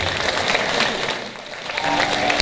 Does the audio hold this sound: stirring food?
no